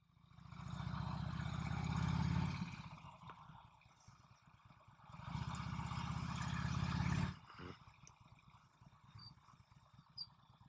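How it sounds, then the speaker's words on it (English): A Harley-Davidson motorcycle engine idles up close with a low, throbbing rumble, swelling in two loud stretches separated by quieter pauses, then dropping to a faint idle with light clicks. "We won't even turn the bike off."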